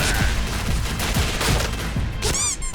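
Rapid gunfire from a weapon in the video game Point Blank rattles out as a close, loud burst of repeated shots in quick rhythm, followed by a couple of ringing metallic shell or reload sounds at the end.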